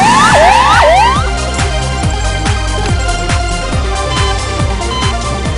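An ambulance siren wails loud and close, rising and falling in quick repeating sweeps at first, then settling into a steady urgent tone over the rumble of traffic.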